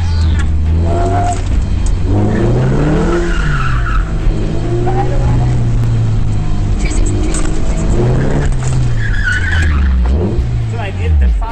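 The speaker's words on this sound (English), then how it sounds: "cars have to negotiate a short autocross course as quick as possible" A car races through a short autocross time attack course, its engine rising and falling in repeated revs with skidding tire squeal, loud and close for the whole stretch.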